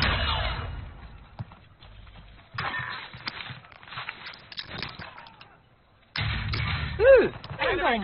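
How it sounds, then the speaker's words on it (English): Video game enemy precision airstrike: bursts of heavy explosions and rumbling impacts come in uneven waves, with gaps of quieter gunfire between them, then a loud final blast near the end. "Enemy precision airstrike."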